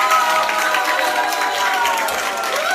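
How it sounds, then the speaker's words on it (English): A crowd at a high-ticket sales class applauds and cheers in a standing ovation, loud and continuous, with voices and shouts mixed through the clapping. "give yourself a huge round of applause"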